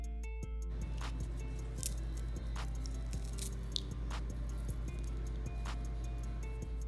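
Dried orange, lemon and lime slices snapped and crumbled by hand, giving a run of small crisp cracks and crunches close up over a low steady background hum, with no talk.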